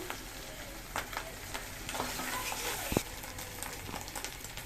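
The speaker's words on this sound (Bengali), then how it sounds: "এখন দিয়ে দিবে মাছের ডিম, ভালো করে ভেজে" Fish roe crackling as it fries in a pan, a steady close sizzle with scattered sharp pops and a brief louder clatter near the middle, no voices over it.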